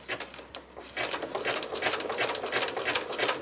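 A home sewing machine stitches a Halloween quilt applique with a narrow stitch width, running as a close, steady mechanical whir that picks up speed after a brief slower start.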